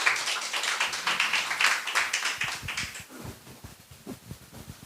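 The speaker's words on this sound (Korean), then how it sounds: "우리 나오실 때 박수로 환영하도록 하겠습니다." A church congregation claps to welcome a guest speaker, a steady rhythmic round of applause for about three seconds that trails off into scattered faint taps and room noise.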